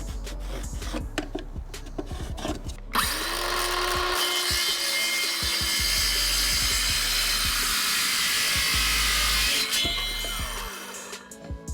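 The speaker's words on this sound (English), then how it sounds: "here I am going to be cutting my 3-foot 2x4s" A saw cuts through 3-foot 2x4 wood boards in a garage, one long continuous loud cut running for several seconds after a few short starts and bumps.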